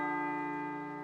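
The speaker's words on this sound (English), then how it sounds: "It sounds like a bell, but where's it coming from?" A bell tone in the video game Persona 3 Portable, a steady sustained ring with layered harmonic overtones holding level for about a second, moderately faint and alone.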